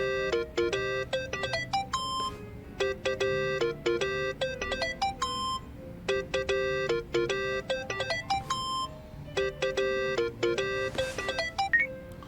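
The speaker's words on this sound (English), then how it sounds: "Think that's your phone, man." A phone in the Yakuza: Like a Dragon video game rings with a repeated electronic melody of bright beeping tones, sounding in regular bursts with short gaps, loud and clear on its own.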